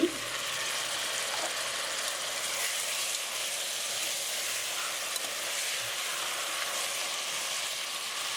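Tomatoes frying with onions in a pan, six normal-sized tomatoes added to nearly softened onions for meal maker tomato rice; a steady, close sizzle runs unbroken throughout with no talking.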